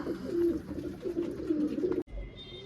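Soft, low cooing of pigeons repeats close by, a few murmuring coos over a quiet background, ending with a brief thump and faint hum.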